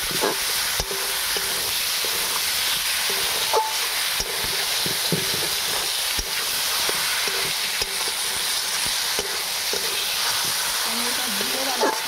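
Lote fish fry with spices in a pan, giving a loud, continuous sizzle close by, with occasional clinks and scrapes of stirring.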